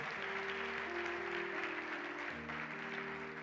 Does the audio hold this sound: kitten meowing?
no